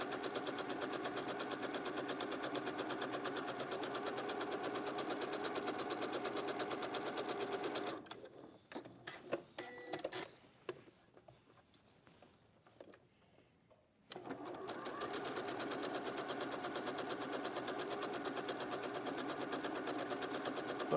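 A sewing machine stitching a quilt half-square block runs in a steady, loud, fast mechanical whir. It stops for several seconds with small clicks and handling noises, then starts up again. There is no talking.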